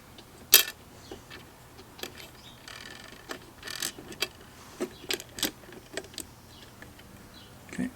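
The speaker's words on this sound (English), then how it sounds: "I'm actually adding lock washers to these." Bolts with lock washers being fitted by hand under a cargo trailer, giving scattered faint metallic clicks, taps and scrapes at irregular intervals, fairly close and quiet, with no talking.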